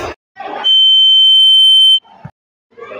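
A telephone gives a single loud, sustained high-pitched ring lasting over a second, with brief clattering noises before and after it.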